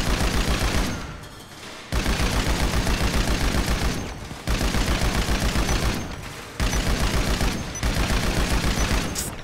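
Shooting-range practice in GTA 5: repeated long bursts of rapid automatic gunfire, separated by short pauses, loud and close throughout.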